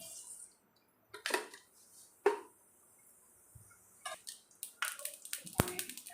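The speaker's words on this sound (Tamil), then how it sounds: "கடுகு இப்போ பொரியது" Scattered sharp pops and crackles burst irregularly against near silence, growing busier toward the end, as mustard seeds splutter in hot sesame oil.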